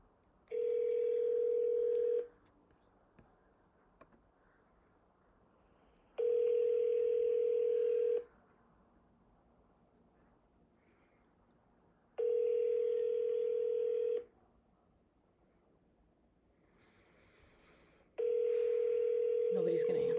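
Outgoing ringback tone on a telephone call to a senator's office, four steady two-second rings spaced about four seconds apart, clear and alone over faint line hiss.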